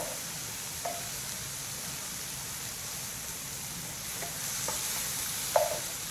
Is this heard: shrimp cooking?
yes